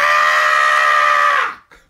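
A storyteller at a concert imitates a mother's scream, one loud, high, sustained shriek held for about a second and a half before cutting off abruptly.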